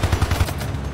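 Enemy gunfire in the video game Hypercharge: Unboxed, a quick rapid burst of about five close, loud shots in an even rhythm, then a short tail.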